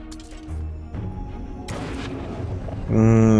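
Ranged attacks in the fantasy strategy game Endless Legend 2 fire as a few heavy booming impacts and thuds, ending with a louder tonal burst, with someone talking quietly underneath.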